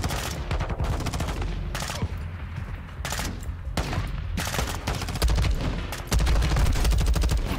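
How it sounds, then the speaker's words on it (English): Video game combat gunfire crackles in dense, rapid bursts of shots, loud and near, with sustained rattling volleys and brief gaps, with no talk over it. "Somebody shooting me from afar."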